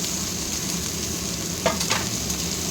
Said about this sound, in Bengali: এখন এটাকেও মশলার সাথে কষিয়ে নিতে হবে